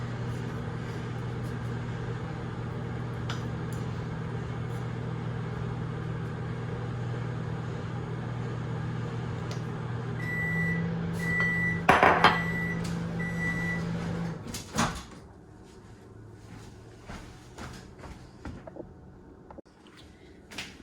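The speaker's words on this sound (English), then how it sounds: "It took a minute and a half to melt that cup of chocolate chips in the microwave." A microwave oven hums steadily for about fourteen seconds while melting a cup of chocolate chips, with a short beeping near the end before it stops, leaving a quieter room.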